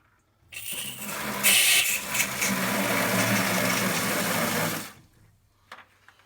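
Water rushes hard out of a newly installed PEX water line at full pressure, a loud steady gush that starts abruptly, holds for about four seconds, then cuts off, with no talk over it.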